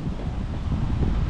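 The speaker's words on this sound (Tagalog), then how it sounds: "Sobrang lakas ng hangin." Strong sea breeze at a beach in Batangas buffets the microphone with steady, loud, low rumbling gusts, and no voices are heard.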